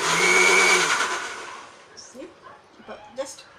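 A kitchen blender whirs loudly, mixing masala buttermilk with a pinch of rock salt, running steadily for about a second and a half before winding down and stopping, with a few faint clinks and handling noises afterward.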